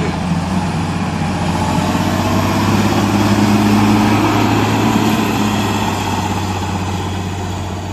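A 120 hp 6×6 machine's engine runs at a steady idle-like drone, loud and close, with a constant low throb and rumble, alone with no voices.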